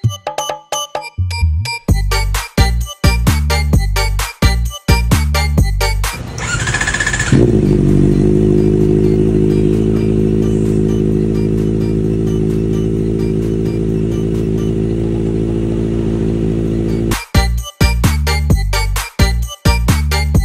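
A Kawasaki ZX4RR 400cc sport bike idles and pulls away, with choppy rhythmic bursts giving way to a steady high-pitched engine drone up close, then choppy again at the end.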